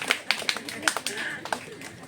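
Scattered hand clapping for graduating primary students at a school ceremony, a few sparse uneven claps close by, with voices in the background.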